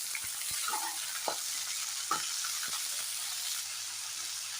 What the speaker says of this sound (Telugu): దీనిలో వాటర్ అంతా డ్రై అయ్యేంత వరకు ఫ్రై చేసుకున్నాం.